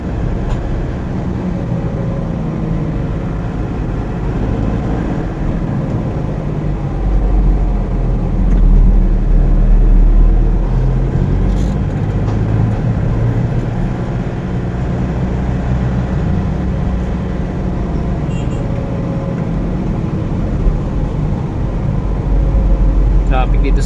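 Rumbling road traffic on a busy street in Bacolod, with a long queue of vehicles under overcast skies; a steady low engine drone that swells slightly midway and carries on throughout.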